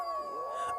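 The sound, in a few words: dogs howling at night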